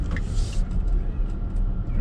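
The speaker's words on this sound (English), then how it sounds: "you can hear the ABS kicking in" Heavy Hongqi E-HS9 electric SUV, about 2.7 tons, accelerating hard on an icy road as ABS engages, heard from inside as a steady low rumble with faint rhythmic pulsing and brief higher hiss early on.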